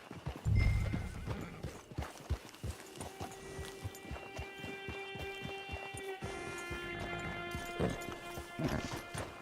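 Horse in the Red Dead Redemption 2 video game, a run of rhythmic hoof clip-clops with a loud thud at the start and a long whinny partway through.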